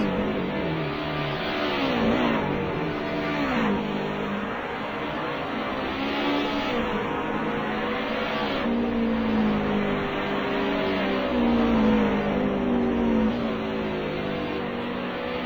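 Formula V1 virtual racing game cars droning continuously with engine tones rising and falling as they run laps, a steady loud mix of several engines throughout without talk.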